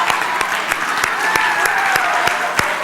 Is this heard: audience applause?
yes